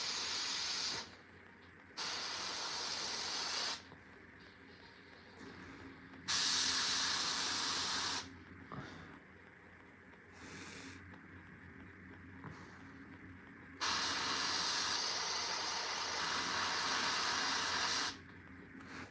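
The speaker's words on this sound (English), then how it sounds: "if I keep airbrushing too long, the air will push the paint and that will form these marks" An airbrush sprays paint onto a Warhammer miniature in repeated bursts of loud, airy hissing, each lasting one to four seconds, separated by short quieter pauses, with no speech.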